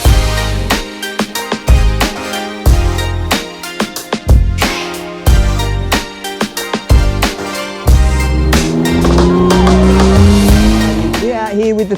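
Powerful cars roaring past on a members-only racetrack, with loud bursts of engine noise sweeping by one after another and a rising rev building near the end, with a person talking nearby.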